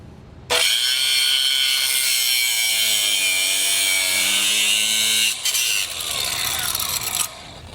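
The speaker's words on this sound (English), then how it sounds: "cut this stud off flush with the frame. I have a cutoff wheel." Cutoff wheel grinding through a steel stud on the frame of a 2014 Volkswagen Jetta, a loud, close, high-pitched screeching whine that starts abruptly, holds steady with shifting pitch, then briefly dips and continues.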